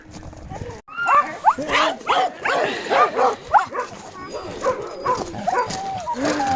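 Several excited dogs being fitted with harnesses bark, yip and whimper in quick overlapping bursts close by, mixed with a person talking to them.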